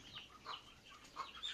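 Hen clucking softly near a farmyard where laying hens are being fed papaya peels, a few short calls scattered over a faint, steady background.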